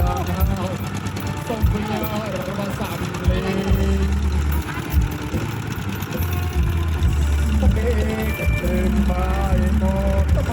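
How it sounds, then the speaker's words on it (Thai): Five walking tractors run together, their small single-cylinder engines chugging in a rapid, busy overlapping rhythm, loud and close and steady throughout, with voices occasionally audible beneath the engine noise. "มาดูรถไถเดินตามกันครับ"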